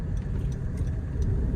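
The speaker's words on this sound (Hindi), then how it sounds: "गाड़ी का आवाज़ देखो कैसे हूं कर रही है।" A Honda Amaze diesel car engine at a dealership service visit, giving a low, steady hum and rumble from close by with no talk over it.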